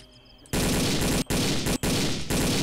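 Sustained automatic gunfire in the video game Boiling Point: Road to Hell, a loud dense burst that cuts out briefly twice and resumes, after a quiet moment at the start.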